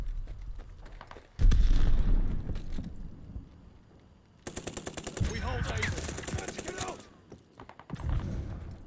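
Automatic gunfire crackles in bursts during a Call of Duty: Vanguard gunfight: rapid close rattling shots, pauses, then more volleys, with voices talking between the shooting.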